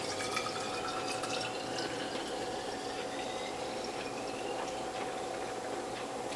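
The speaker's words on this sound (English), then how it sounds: "So let's go over here and fill these bottles" Liquid pours steadily into bottles after a juicer test, a continuous close trickle and splash of filling with faint dripping and ticking, no talk.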